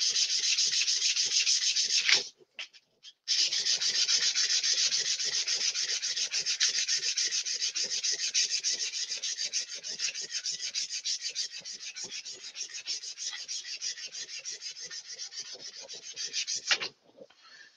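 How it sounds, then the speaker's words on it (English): A turned wooden vase spinning on a woodturning lathe is sanded with 100-grit paper. A steady, loud rasping hiss runs throughout, pausing briefly near the start and cutting off at the end. "Just want to get nice smooth sides on this. I'm only doing it with 100 grit"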